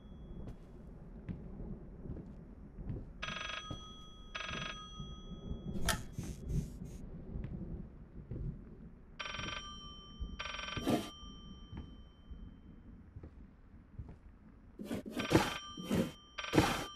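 A telephone bell rings in the horror game Layers of Fear VR, sounding in three separate bursts of bright, insistent ringing over a low, rumbling ambient backdrop with no talk.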